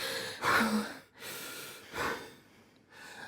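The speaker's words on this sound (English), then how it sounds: "Clay, take a breath, a deep one." A person draws a deep breath, with two audible inhales and exhales spaced across a few seconds, close and clear, alone with no talking.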